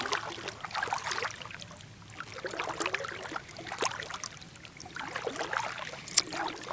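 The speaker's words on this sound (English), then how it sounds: "Just paddling along, singing my song." Paddle strokes dip and pull through water in a steady rhythm, each stroke a soft splash and trickle close by, with no voices over it.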